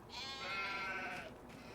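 A single drawn-out sheep bleat from Farming Simulator 25, close and clear, lasting under two seconds with no talking.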